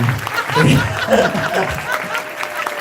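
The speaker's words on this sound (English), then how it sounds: "Can we have a big round of applause, everyone?" An audience at an anime convention's closing ceremony applauds, clapping mixed with a few cheers and some talking over it, fading somewhat toward the end.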